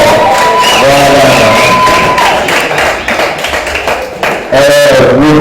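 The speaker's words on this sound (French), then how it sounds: "Acclamez le maître." A crowd cheers and applauds loudly for Dr. Didier Dikamba, president of the Dikamba Foundation, at a school-supplies handover event: dense clapping and shouting fill the whole stretch, with whoops and vocal cries rising over it, briefly dipping before swelling again.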